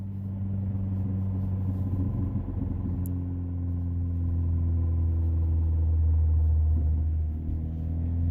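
A Ford Fiesta ST with a failing transmission coasting off the throttle gives a steady low rumble with a droning whine that swells slightly midway, heard from inside the car with no talking.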